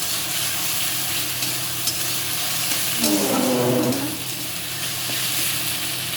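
Ground ginger, cumin, chili and onion paste with turmeric and salt fry in a pan for a fish curry, giving a continuous sizzle with faint stirring, while a brief muffled murmur rises midway.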